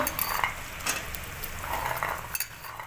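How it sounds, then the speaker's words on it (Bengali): Onion, tomato, garlic and ginger spice paste for paneer masala sautés in a pan, a close, moderate sizzle broken by the scrape and clink of a stirring spoon against the pan. "এভাবে একটু মশলাটা কষে নেবো"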